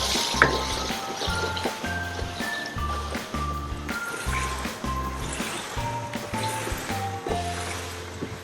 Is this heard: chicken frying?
yes